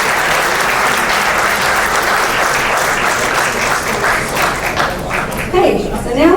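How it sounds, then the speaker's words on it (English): Loud, sustained applause from an audience at a 2022 HSC student and medical professional award ceremony, dense clapping filling the whole stretch with a brief voice surfacing near the end. "please give these great achievers a round of applause"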